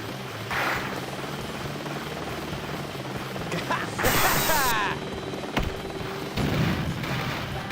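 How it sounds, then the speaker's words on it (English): Helicopters in a video game thrum with rotor noise, mixed with explosive bursts and a whooshing blast, while players talk in the background. "I killed all the choppers."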